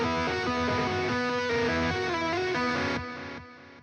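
A post-hardcore electric guitar tapping part runs through a delay plugin, with a steady stream of bright repeated notes that trail into fading echoes at the end.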